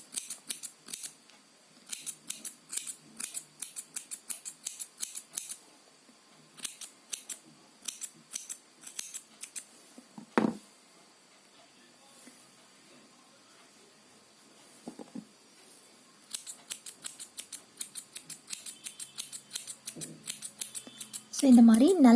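Scissors trimming yarn on a crochet pom pom: rapid runs of close, crisp snips separated by short pauses, with a few soft handling noises in between.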